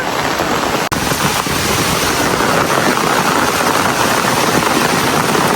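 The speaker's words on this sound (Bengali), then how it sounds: "যেমন বৃষ্টি তেমন বাতাস, হঠাৎ করে এরকম বৃষ্টি নেমে গেল" A sudden, heavy downpour driven by wind pours down outdoors by a garden, making a loud, dense, unbroken roar close by with no voices.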